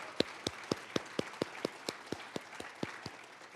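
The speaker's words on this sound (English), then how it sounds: "Let's give a round of applause to the venue." An audience claps in a hall at an annual celebration dinner, a sparse, evenly spaced run of about a dozen distinct hand claps that stays fairly quiet and continues throughout.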